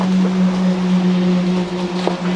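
A steady mechanical hum drones on continuously, a concrete vibrator compacting freshly poured concrete for a large foundation, running close by with a constant buzzing tone and faint background noise.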